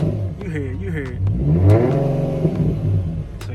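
Infiniti M35h hybrid car engine revving in sport mode, a mid-pitched engine rising and falling through several rev sweeps with some clatter, heard close with talking over it.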